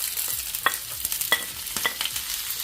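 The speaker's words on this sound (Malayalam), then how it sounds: "സവാള നല്ലപോലെ വഴന്നു വരുന്നവരെ നമുക്കൊന്ന് വെയിറ്റ് ചെയ്യാം" Two large sliced onions soften in a hot pan for Kerala-style fish molee, with a soft sizzle under a few distinct stirring scrapes and clinks of a spoon against the pan.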